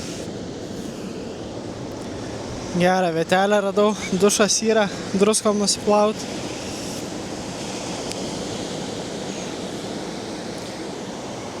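Mediterranean surf washes steadily onto the shore as a broad, even roar, with someone speaking briefly over it partway through.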